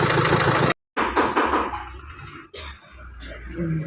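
A Renault Duster engine idling loudly with a heavy, rough running noise, close by and steady, briefly cutting out and dipping before picking back up, with no speech.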